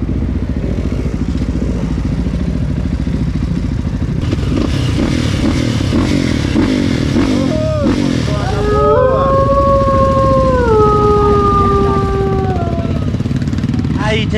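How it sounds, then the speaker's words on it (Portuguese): Motorcycle engine revving and accelerating on an off-road trail ride in Guarapari, Espírito Santo, a loud continuous roar with rising pitch sweeps, mixed with clatter and background crowd noise. "moto aí, acelerando."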